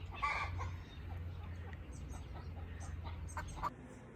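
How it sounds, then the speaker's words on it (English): Soft clucking and cheeping from baby chickens close by in a backyard, scattered irregular calls over a quiet background. "There's some baby chickens."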